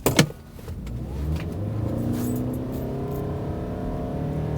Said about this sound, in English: It makes a decent amount of noise on the front end. That engine isn't quiet.